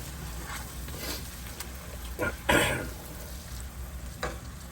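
Onions sauté in a pan, giving a soft steady sizzle with occasional louder stirring scrapes and spatters, close by and with no voices.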